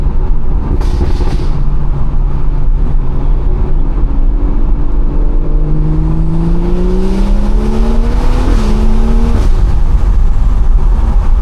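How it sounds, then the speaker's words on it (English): A BMW B58 engine drones steadily, its pitch climbing and falling through several revs as the car is pushed on backroads, loud and close, with no voices. "Listen to the B58 though."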